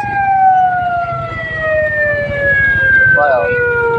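A wailing police siren sweeps steadily over street noise and crowd murmur at a fire scene, staying loud and close throughout, with voices chattering beneath it.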